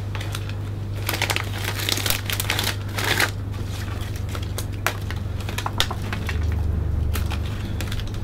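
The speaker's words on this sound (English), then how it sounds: "I'm going to take a little bit of the cellophane, and we're going to start to just hold the cellophane open within the bag" Cellophane crinkles and rustles inside a gift bag as it is handled, giving close, irregular bursts of crackling over a steady low hum, with no talking.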